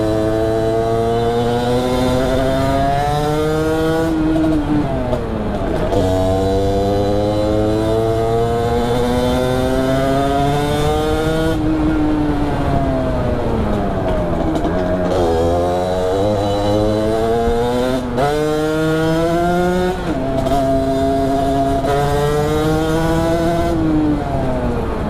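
A Sherco dirt bike with a damaged exhaust pipe revving hard and long, its engine note repeatedly rising and falling in sustained buzzing sweeps, loud and close with no pauses or talk.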